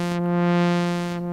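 An Omnisphere 2 synth tone holds steady with its filter cutoff and stereo pan swept together by LFO1, a loud, close, sustained drone with a slow, wavering brightness.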